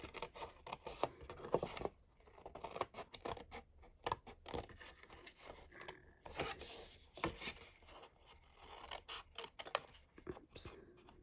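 Scissors cutting through card in quiet, close snips and rasping rubs, irregular short bursts with pauses between them.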